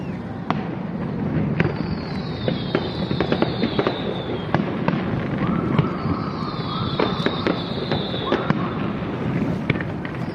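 Fireworks bursting at a riverside display, a steady barrage of sharp pops and booms with crackling and whistling trails, loud and continuous over crowd noise.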